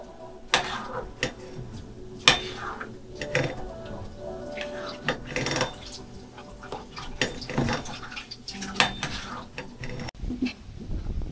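A pot of cassava dessert with sugar is stirred, giving irregular metallic knocks and scrapes of a spoon against the pot, some sharp and loud, over a quiet bubbling background.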